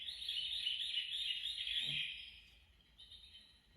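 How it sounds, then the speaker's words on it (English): Little birds chirp in quick, high, twittering runs that carry on steadily, fairly close and alone, with no talk. "One buddy goes chip, chip, chip, and the other one goes chirp, chirp, chirp."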